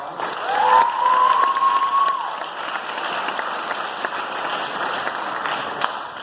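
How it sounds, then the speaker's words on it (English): A crowd at a high school sports awards night breaks into applause with some cheering, a steady wash of clapping that gradually fades as a brief tone sounds early on. "Let's give those two a round of applause."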